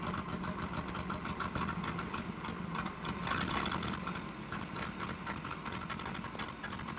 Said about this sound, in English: This engine sure is missing.